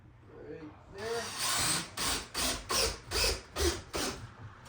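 A power driver sets screws into supports for cheap homemade garage shelves, whirring in a string of about six short, even bursts after a brief spoken remark.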